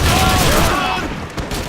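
Gunfire from Lee Enfield bolt-action rifles in the 2005 video game Call of Duty 2 sounds as loud, close booms that merge into a dense volley within a brief burst.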